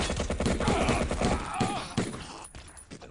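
Pistol gunfire from Battlefield 1942, a quick burst of several close, punchy shots over rumbling battlefield noise, fading into lighter ambience.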